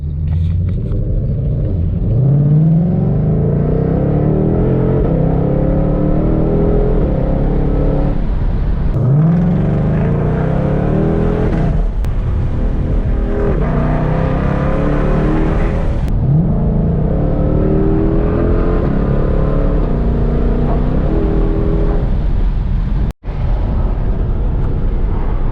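A 2020 Ford Shelby GT500 engine starts and settles into a loud, deep rumbling idle with several throttle blips that swell and fade, close by and steady throughout, with one sharp click near the end.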